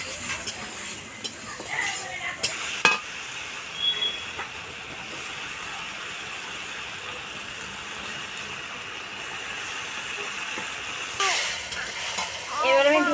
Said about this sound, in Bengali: এবার মশলাটাকে আমি সুন্দর করে কষে নেব।